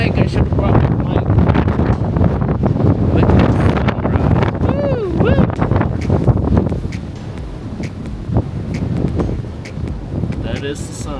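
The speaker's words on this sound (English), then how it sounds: "Oh man, it's windy." Strong wind roars and buffets the microphone continuously on the open deck of the cruise ship Wonder of the Seas at sea, with a voice talking underneath and a brief whistling tone partway through.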